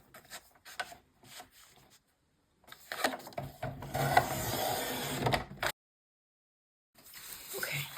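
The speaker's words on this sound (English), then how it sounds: "I'm going to use my cutter and cut my strips." A paper cutter slices card strips with a few short scraping passes, one longer rasping cut in the middle, then quiet and another brief cut at the end, all close and fairly soft.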